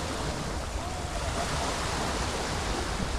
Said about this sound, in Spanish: Música para mis oídos, todo el oleaje.